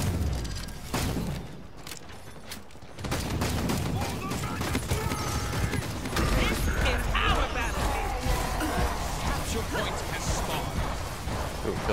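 Octavia's primary weapon firing in the Paladins video game, a rapid run of sharp shots repeating through the fight, loud and close, with a voice talking over it and busy game effects around.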